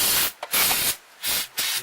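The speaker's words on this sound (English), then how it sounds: "Next you want to spray some brake cleaner on it." Several short bursts of aerosol brake cleaner hissing from a can onto a Honda CR-V transmission part, separated by brief pauses, loud and close.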